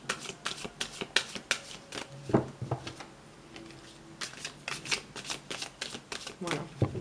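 Tarot cards being shuffled by hand for a reading, a close, crisp series of riffling bursts and soft slaps repeating in quick uneven rhythm, with someone speaking French over them.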